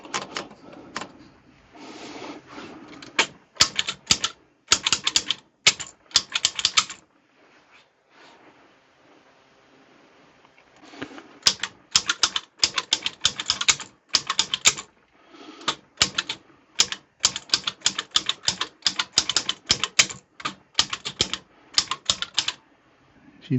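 An antique L.C. Smith No. 3 manual typewriter, over a century old, clacks with bursts of sharp key strikes, a quiet pause in the middle, then another rapid run of typing, close and loud.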